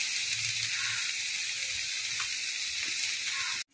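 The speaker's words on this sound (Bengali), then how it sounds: "আমি এটাকে লো ফ্লেমে না নাড়তে নাড়তে এটাকে পুরো শুকনো করে টানিয়ে নেব।" Lentil paste frying on a low flame for a cauliflower dhoka curry gives off a soft, even sizzle and hiss throughout, faint and steady, ending with an abrupt cutoff.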